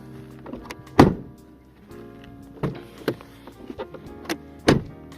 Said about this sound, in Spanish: vamos a empezar por la puerta, como no podía ser de otra manera, y vamos a comenzar cerrándola